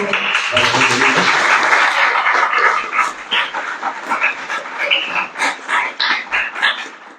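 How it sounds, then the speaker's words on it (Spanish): Applause from an audience at a university panel of political science graduates, dense clapping for about three seconds, then thinning into scattered, uneven claps with a few voices. "Vamos a dar un aplauso a Bruno"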